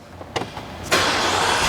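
A 2021 Ford F-150 fitted with a Whipple supercharger cranks over with a few short starter bursts, then fires up and settles into a loud, steady idle close by.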